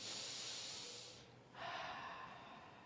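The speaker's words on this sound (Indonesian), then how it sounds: "Coba tarik napas." A group of people draws a long, deep breath in unison, a steady breathy hiss that swells for about a second and a half, then a second sustained breath follows with no talking.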